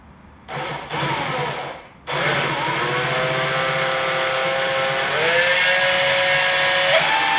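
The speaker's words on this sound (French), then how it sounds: "On va déjà en percer un premier et après on va faire le second pour que les trous coïncident bien." An electric drill bores into an aluminium bracket for a rigid solar panel mount: two short bursts, then a sustained whining run that rises in pitch near the end, close and fairly loud.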